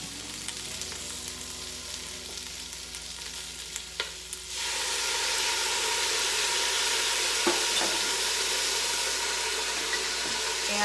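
Food crackles and sizzles in a hot pan at home, a soft steady frying at first that swells into a loud, hissing sizzle partway through, heard close up.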